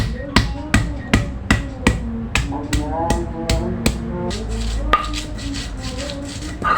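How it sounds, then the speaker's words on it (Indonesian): Candlenut, turmeric, galangal and ginger are ground by hand for Minangkabau-style chicken, with close, sharp, regular pounding strikes about three per second. A steady low rumble continues underneath. "Kunyit sama lengkuas sama jahe kita giling halus ya teman-teman."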